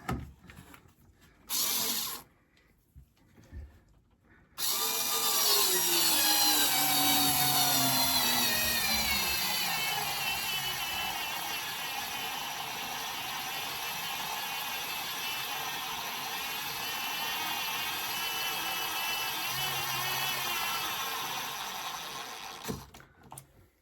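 Cordless electric screwdriver driving screws on a model railway layout, a couple of brief bursts followed by a long sustained whirring run that slowly shifts in pitch, close and fairly loud.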